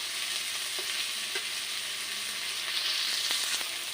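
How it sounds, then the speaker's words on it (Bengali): Green tomato curry fries in a pan while being stirred, an even, close sizzle with a few light knocks of the utensil, steady and fairly quiet throughout. "আবার আমি নাড়াচাড়া করে নেব"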